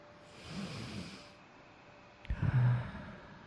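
A long, deep breath is drawn in softly and then let out in a louder, breathy exhale, close and alone with no talk, during a calm morning affirmation session.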